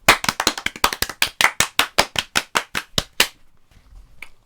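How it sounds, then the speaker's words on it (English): A live-show audience bursts into applause, about fifteen sharp, evenly spaced rounds of claps for roughly three seconds, then trailing off into quiet room tone with one late clap. "Round of applause for Elaine."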